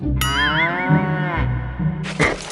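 A carabao, or water buffalo, lets out a loud, close moo with a wavering pitch, followed by a short second burst as a sound effect.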